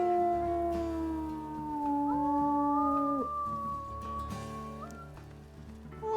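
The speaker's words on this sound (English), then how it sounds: "Oh, little baby howl." A wolf pup howls in a video game, with wavering, rising and falling howls and overlapping higher cries sustained over several seconds against a faint rainy background.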